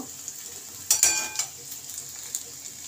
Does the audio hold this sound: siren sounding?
no